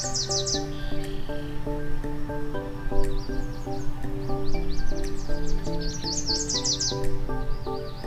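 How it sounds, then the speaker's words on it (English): Budgie chirping in steady, busy runs of bright warbling notes and quick tweets, close and continuous, with no voices. "Budgies can learn to talk."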